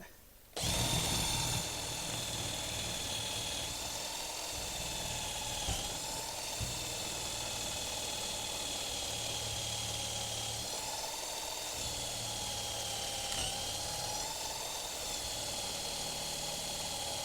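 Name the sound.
power drill drilling a 3/8 inch hole through metal plate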